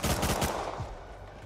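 Rapid bursts of gunfire in the video game Rust, several quick close shots in the first half-second, then a single shot fading into echoing decay.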